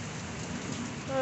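Hail pelting down during a hailstorm, a dense steady patter that sounds like heavy rain on a surface, moderately loud and continuous through the moment, with a faint brief tone near the end.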